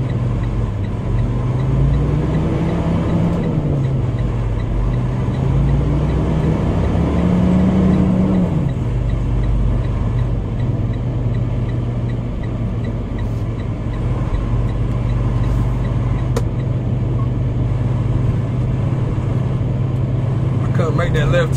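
A flatbed truck in downtown Baltimore drives and works through a tight turn, its engine droning low and shifting pitch as it accelerates, rising early and then settling into a steady rumble.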